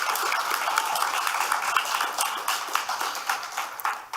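Audience clapping at a senior talks event, a steady dense patter of many hands held for several seconds, fairly close and loud with no voices over it.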